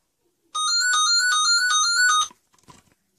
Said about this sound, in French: Désolée vraiment pour le téléphone qui a sonné en plein milieu, c'était mon fixe